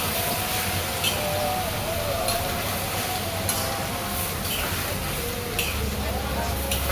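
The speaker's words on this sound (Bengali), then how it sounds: "আমি সময় নিয়ে চালটাকে ভাজবো, ঠিক পোলাও রান্নার সময় যেমন করে আমরা পোলার চালটাকে ভাজি।" Rice stirred and fried in a generous amount of oil in a pan for Bikrampur-style bouya bhat, a steady broadband sizzle with occasional scraping strokes of the spoon, continuous and fairly close throughout.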